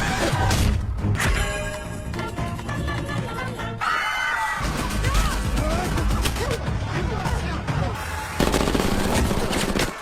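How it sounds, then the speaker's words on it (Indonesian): Gunfire from a killer aboard an airplane in an action movie, rapid bursts of shots and crashing impacts mixed with chaotic noise and voices, loud and dense throughout. "satu pembunuh pun melepaskan tembakan yang membuat jendela pesawat bocor"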